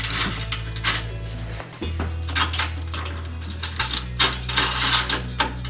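Metal washers clinking and rattling together while an Air Lift air spring system is installed on a 2017 Ford Super Duty F350, close bright metallic jingles in quick uneven bursts over a low steady hum.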